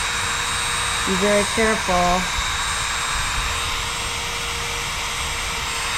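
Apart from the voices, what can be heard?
Dremel cutting a slot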